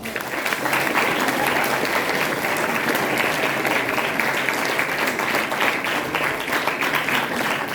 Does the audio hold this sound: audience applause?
yes